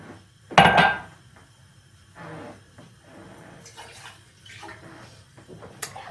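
Water and vinegar poured into a pot on the stove for a brine, a short splashing clatter at the start followed by quieter intermittent pouring and metallic knocks.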